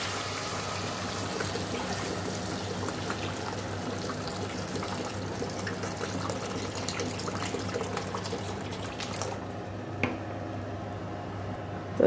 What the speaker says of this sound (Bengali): দেখো এবারে জল দিয়ে দেবো।